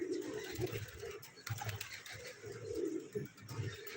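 Pigeons at a home loft coo in soft, low, throaty repeated phrases close by, with faint chirps and rustling in the background.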